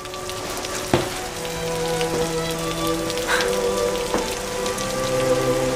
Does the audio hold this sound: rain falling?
yes